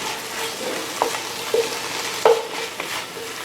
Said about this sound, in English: let's just go ahead and stir that in there